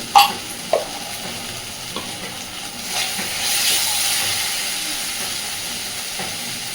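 Chilli powder and turmeric frying in a pan with a splash of water give a few sharp spatula knocks, then a surge of steamy sizzling hiss that holds steady, close and with no voices.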